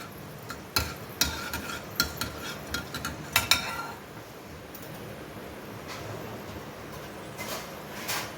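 A spoon stirs roughly a quarter spoonful of fenugreek seeds dry-frying in a pan. Faint scrapes and metal clinks come in a loose series and then give way to a quiet background hiss, with no voices.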